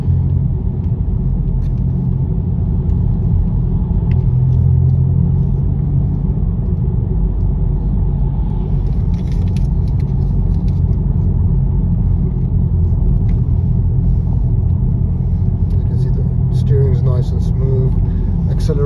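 A 2015 BMW 118i three-door engine accelerating on the road, a loud steady low rumble with road noise throughout, and someone talking over it.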